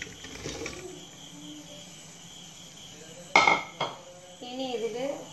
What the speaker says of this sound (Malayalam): ഇതെല്ലാം നമുക്ക് കുക്കറിനകത്ത് ഇടാം.